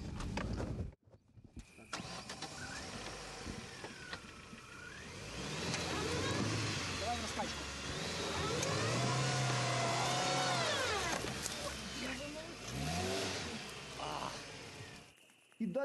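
A car engine drives on a rough dirt road at night near a minefield, rumbling and revving steadily with varying pitch as the vehicle jolts along, loud and close for most of the span.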